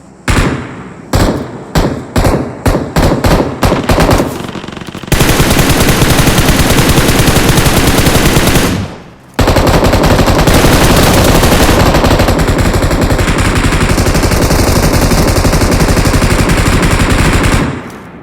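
PUBG Mobile gunfire: a run of sharp, separate shots at first, then long sustained bursts of automatic fire, very loud and close, with a short pause midway and no talk.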